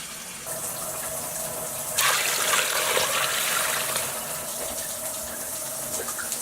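Water pours steadily into a Hamilton Beach roaster oven during a bone broth batch, a continuous splashing gush that swells louder partway through and keeps running to the end.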